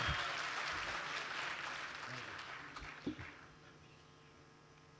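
An audience at an Indian poetry recital (mushaira) applauds for the poet, a broad wash of clapping that gradually fades out, with a few soft knocks near the end.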